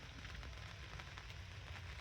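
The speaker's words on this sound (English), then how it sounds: "But it's just a light rain" Light rain patters steadily on an extended camper awning at a state park campground, a soft, even hiss of drops with no voices.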